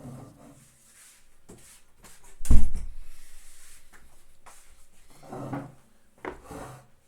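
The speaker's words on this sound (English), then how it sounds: "Just close the door" A wooden door is pushed shut with one loud knock, followed by a trailing scrape and a few softer bumps and rubs, all close by and free of talk.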